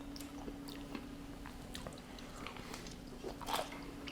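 Close, quiet crunching bites and chewing of fresh-picked green beans, a few crisp snaps spread over a few seconds against a soft background hum.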